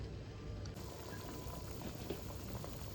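Rendang rempelo, chicken gizzards in a spiced sauce, boils in a pot on the stove, a close, continuous bubbling and simmering with small pops, steady throughout and without talk.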